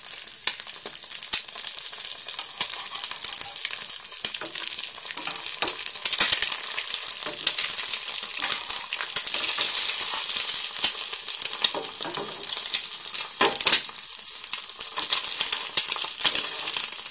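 An egg fries in oil in a pan, giving a steady loud sizzle with crackling pops scattered throughout and no talking.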